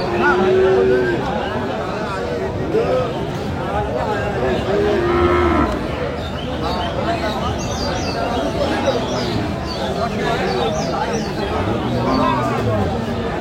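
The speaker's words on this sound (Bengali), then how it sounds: "গাভী বাছুর আমরা দেখছিলাম এখানে" Cows and calves moo repeatedly at the Aftabganj cattle market amid a busy crowd, with many voices chattering and bargaining close by.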